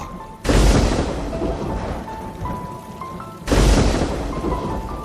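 Steady, heavy rain pours throughout, broken by two loud rumbling thunderclaps, one near the start and another a little past the middle.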